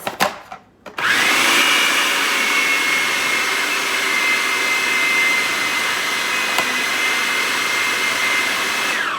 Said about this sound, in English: Now we're gonna blend this.